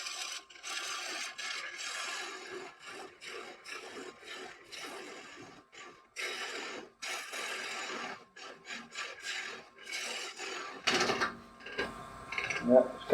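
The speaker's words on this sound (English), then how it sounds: "Let's just use a regular bowl gouge." A regular bowl gouge hollowing wood on a lathe, the piece held by dome-style jaws, gives close, repeated rasping scrapes in short bursts with brief pauses, ending in a couple of sharper knocks.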